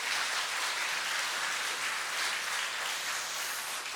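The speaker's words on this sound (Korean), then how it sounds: "다 같이 한번 축하의 박수를 한번 보내도록 하겠습니다." A church congregation claps steadily after a baptism, a dense, even wash of many hands filling the room from start to finish.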